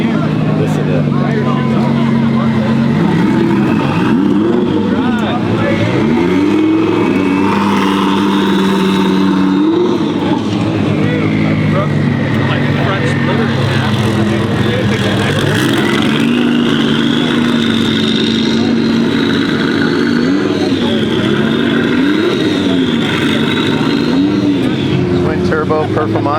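A Lamborghini Huracán Performante's engine revs and swells close by in repeated pulls lasting about 25 seconds, with the pitch climbing and falling as people talk over it.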